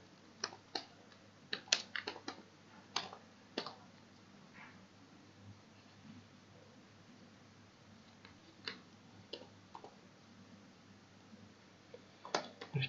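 Code being typed on a computer keyboard, sparse quiet keystroke clicks in small irregular clusters with long gaps, faint and close against a low hum.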